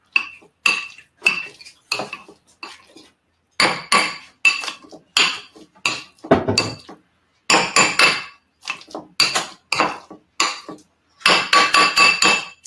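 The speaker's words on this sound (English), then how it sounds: "So I'm just going to take the masher, and I'm just going to go like this." Avocado mashed by hand with a masher in a home kitchen, a series of sharp knocking, squelching strokes in irregular bursts, close and fairly loud, with no talking.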